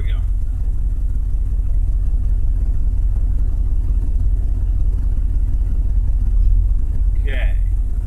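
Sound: car engine idling, running on hydrogen HHO

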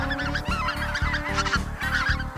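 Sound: flight of specklebelly geese honking while duck hunting

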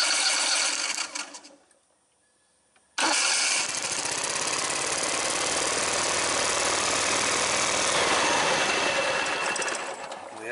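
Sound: Kohler engine being cranked over

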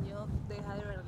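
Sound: wind blowing outdoors

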